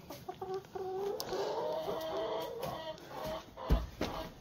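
Backyard chickens clucking and calling close by during nonstop rain, a run of short repeated clucks and squawks over a wet background hiss, with a louder thump near the end.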